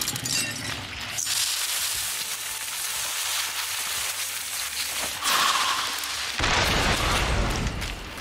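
A frag grenade explosion in a shooter video game: loud blast noise filling the scene with rumbling booms, then a fresh burst around the middle and another heavy low boom near the end, amid continuous game noise.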